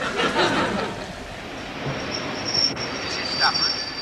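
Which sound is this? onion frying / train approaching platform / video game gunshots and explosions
train approaching platform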